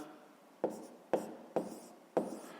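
Numbers are written by hand during a fifth-grade maths exercise, four sharp pen strokes tapping and scratching on paper at uneven intervals, each followed by a short scratch, close and alone.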